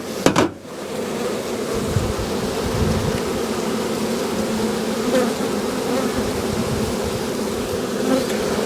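Dense, steady buzzing of honey bees swarming around an open hive in an Australian bee yard, loud and continuous throughout, with a brief handling knock at the start.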